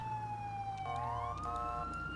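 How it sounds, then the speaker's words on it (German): Police siren in GTA V switching into a rising, wavering dynamic wail, loud and steady over a low engine rumble, with no talk. "er hat gerade irgendwie diese, diese dynamische Sirene, die eh kein Mensch nimmt"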